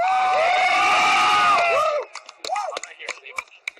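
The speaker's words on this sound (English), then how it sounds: "Let's have a round of applause for Stephen Williford" Rally crowd at a gun rights gathering in Richmond, Virginia roars with loud sustained cheering, whoops and shouts for about two seconds, then breaks into scattered claps and calls as the noise fades.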